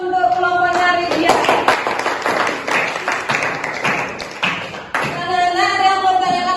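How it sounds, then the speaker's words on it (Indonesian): A classroom of students claps for a student group, a burst of brisk, close applause lasting several seconds, with voices just before and after. "kita beri aplaus untuk kelompoknya Ridya"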